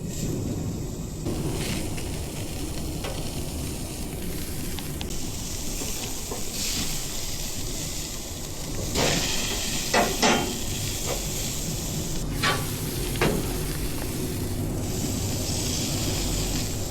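Teriyaki-marinated New York strip steaks sizzle on a Magma Crossover grill with a steady loud hiss and crackle, plus a few sharper pops and clatters partway through.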